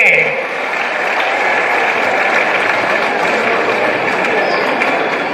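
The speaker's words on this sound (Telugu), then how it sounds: "మీరందరూ గట్టిగా చప్పట్లు కొట్టి వారి ఆశీర్వాదాలను మీరు తీసుకోవాలని కోరుకుంటున్నాను" An audience at a politician's press meet claps loudly and continuously, dense applause sustained throughout and heard close.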